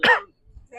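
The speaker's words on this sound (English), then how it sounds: "I don't know why I'm coughing like this." A person coughs hard once up close, a sharp burst followed by a pause, then a low rumble and a second rising cough or throat noise.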